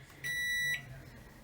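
An oven timer gives one sustained electronic beep of about half a second while it is being set in a home kitchen, loud and close, over quiet room tone.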